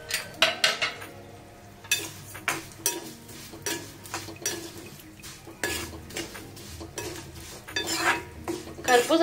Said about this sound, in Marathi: दूध उकळूस्तोपर्यंत अजून आपण शेवया भाजून घेऊया तुपामध्ये।